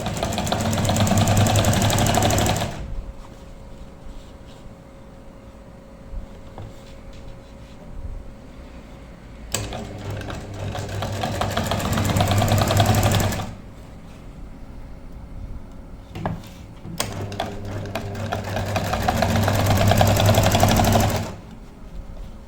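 A sewing machine stitches a chaak daman hem in three loud, steady whirring bursts separated by quieter pauses with faint handling, close and mechanical.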